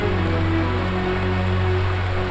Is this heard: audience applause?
no